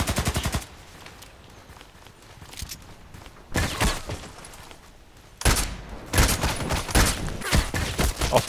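Bursts of gunfire in the Contract Wars shooter, with rapid volleys at the start and again in the latter half, separated by quieter stretches with faint footsteps.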